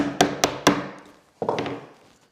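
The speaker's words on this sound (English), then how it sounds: "grab your chisel like a fist. Come into that line, like so" A chisel strikes into wood to cut the shoulder of a chair joint: three sharp, ringing taps in quick succession, a pause, then a softer scraping cut. Close and distinct, with no talking.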